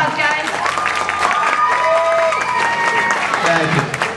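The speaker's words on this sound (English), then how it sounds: "give her a round of applause, right." A crowd at a convention costume contest applauds the masquerade head, and the clapping is mixed with cheers and a speaker's amplified voice over the top throughout.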